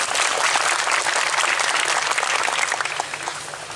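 Broad, steady applause rises from a large outdoor crowd at a religious gathering on the Rendeng field in Kudus, a dense wash of many hands clapping together that fades slightly toward the end.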